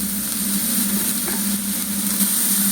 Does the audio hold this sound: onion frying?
yes